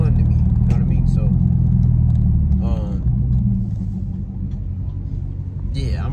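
A Dodge Challenger's engine rumbles steadily at low pitch while driving, a continuous loud drone underneath a person talking throughout.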